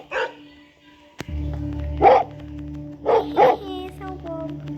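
A pet dog indoors in a home gives short sharp barks and yips, several in close succession, fairly near and loud over a steady low hum, after a sudden thump.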